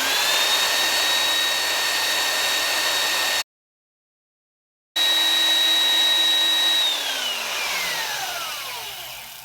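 Belt sander running a worn sanding belt charged with green honing compound while a chisel blade is honed in a jig, a steady high whine that drops out briefly, then returns and winds down at the end.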